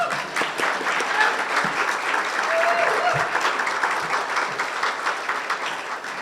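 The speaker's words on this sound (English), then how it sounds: "We can clap." An audience at a city chamber of commerce State of the City event claps steadily and warmly for about six seconds, a dense wash of hands with a few louder claps and faint voices underneath.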